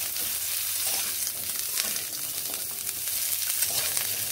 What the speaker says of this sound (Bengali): এবার ভালোভাবে সজনে ডাঁটাগুলোকে ফোড়নের সঙ্গে ভেজে নেব।